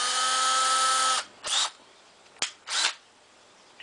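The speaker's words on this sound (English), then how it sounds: "first thing we got to do here is get a drill bit going" A small drill bit whines steadily at high speed, drilling pilot holes for baggage door locks on a Shasta trailer, then stops; short bursts of drilling and a sharp click follow, close and clear.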